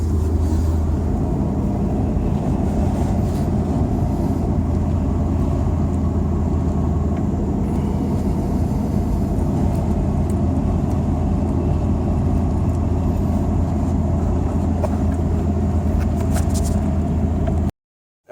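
A car driving in third gear with a broken clutch cable, producing a steady low engine drone and road rumble that continues without a break, then cuts off abruptly at the end.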